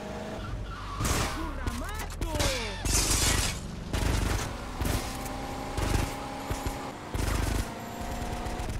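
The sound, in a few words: gunfire in GTA: Vice City Stories video game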